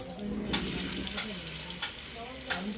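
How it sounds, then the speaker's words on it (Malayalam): Fish frying in masala in a pan, a steady close sizzle with several sharp stirring scrapes and clacks at intervals, no voices. "മീൻ ഇപ്പുറത്ത് ഫ്രൈ ആയിട്ടുണ്ട്."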